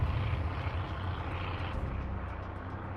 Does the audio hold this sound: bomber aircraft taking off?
yes